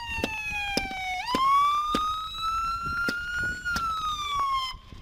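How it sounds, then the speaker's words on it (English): A police siren wails loudly and close, its pitch sliding up and holding, with sharp clicks and rattles punctuating it throughout. "Turn that siren off."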